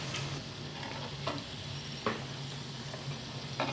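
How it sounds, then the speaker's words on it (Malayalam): Fish sizzles steadily in hot oil, with a few soft scrapes and clinks of stirring against the pan. "നന്നായിട്ട് നമുക്ക് ഇത് എണ്ണയിൽ പൊരിച്ചെടുക്കാം"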